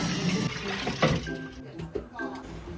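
Soybeans are rinsed in a sink under running water, with splashing and trickling close by while someone talks over it.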